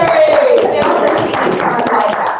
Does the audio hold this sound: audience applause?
yes